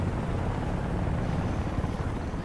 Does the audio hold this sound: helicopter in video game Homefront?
yes